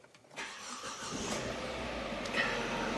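A car with its check engine light on cranks and catches at close range, then settles into a steady idle with a faint squeal.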